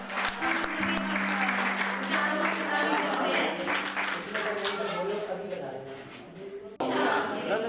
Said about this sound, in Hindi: दीदी के लिए बहुत ज़्यादा तालियां बजाइए आप